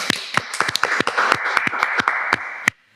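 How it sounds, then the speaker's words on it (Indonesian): Studio audience on an Indonesian talk podcast clapping hands, a fairly sparse group giving sharp, irregular claps for a few seconds under a steady hum of voices, then stopping abruptly. "Tepuk tangan dulu."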